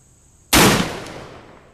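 A single sharp gunshot from a Colt Single Action Army .45 revolver with a 7.5 inch barrel, loud and close, bursting suddenly after a quiet moment and ringing out in a decaying tail.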